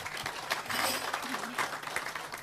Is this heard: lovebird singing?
no